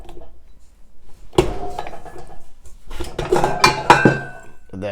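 A metal mixing bowl is lifted off a stand mixer after kneading Roman-style pizza dough, giving several close clanks and clinks, with a quiet stretch before and a louder cluster of knocks near the end.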